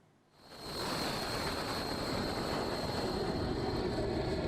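Fighter jets launch from a US aircraft carrier in a steady, loud, sustained engine roar that swells up over the first second and then holds, close and without speech.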